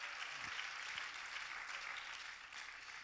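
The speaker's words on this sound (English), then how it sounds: "Somebody clap your hand and give him praise." A church congregation claps hands during a sermon, a steady wash of applause that holds at an even level for the whole stretch.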